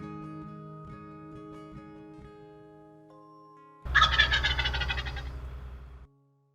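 A loud, rapid American wild turkey gobbling call in Tennessee bursts out close by after a stretch of steady tonal background sound, then cuts off.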